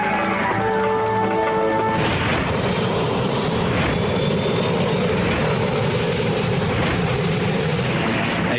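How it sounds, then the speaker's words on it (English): A helicopter lifts off on the Kobe side of the Akashi Strait, its rotor and engine a continuous loud roar with a rising whine as it climbs, broadband and steady over several seconds. "The helicopter lifts off on the Kobe side of the strait."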